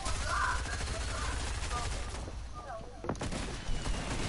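Rocket launcher fire in a multiplayer shooter game, a dense barrage of booming blasts and gunfire under continuous excited team chatter, with a sharper burst near the end.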